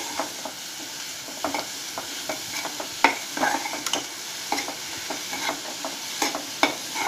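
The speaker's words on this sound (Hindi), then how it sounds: "प्याज सॉफ्ट होने पर हम इसमें मशरूम डालकर इसे थोड़ी देर 5-7 मिनट के लिए" Onions and mushrooms sizzle over a low flame in a pan for creamy mushroom soup, a steady close frying hiss broken by repeated scraping stirs of a spoon.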